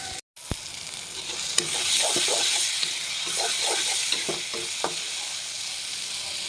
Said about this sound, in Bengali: আরেকটু ভালো করে আমি শুটকিটা ভেজে নেব মশলাসহ